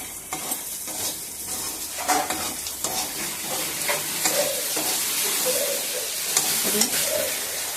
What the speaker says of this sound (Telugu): కొంచెం కొబ్బరి మిక్స్ చేసుకున్నది వేయాలి. మిక్స్ చేసుకోవాలి.